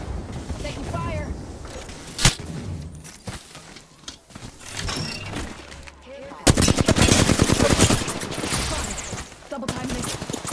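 A video game battle with gunfire: sporadic shots and a sharp crack, then a dense burst of rapid automatic fire, with a voice talking over parts of it.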